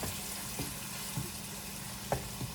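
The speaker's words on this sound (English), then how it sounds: "Ground beef browning up here, practically done" Ground beef browning in a pan for enchiladas, a faint continuous sizzle with a few soft clinks and scrapes, no talking.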